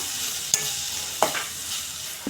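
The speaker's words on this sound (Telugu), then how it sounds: "గరం మసాలా కూడా అర స్పూన్ వేసుకున్నాము ఇది కూడా కొద్దిగా వేగనిద్దాము" Chilli chicken masala with garam masala fries in a pan, a steady close sizzle broken by a few sharp scraping stirs of a spoon against the pan.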